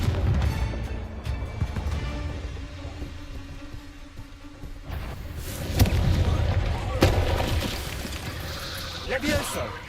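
Confringo fire spell explosions in the Hogwarts Legacy video game: several sharp, booming blasts with crackling bursts, loudest around the middle and later, heard beneath a talking voice over steady game background.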